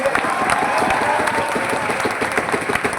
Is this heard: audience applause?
yes